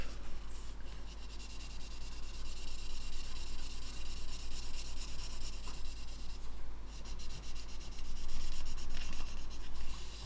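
A 3000 grit sanding pad rubs down a plastic model in a steady, close, scratchy swish that continues without pause and grows slightly louder toward the end.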